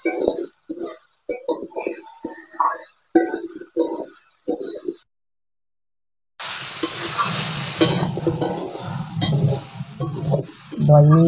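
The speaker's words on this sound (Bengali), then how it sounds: "এবারে ভেজে রাখা পটলগুলো এর মধ্যে দিয়ে দেবো, দিয়ে আর একটু ভালো করে কষে নেব" Pointed gourd being stir-fried with spices in a pan for potol curry. Choppy scraping stirs at first, then a gap, then a loud steady sizzle with stirring scrapes.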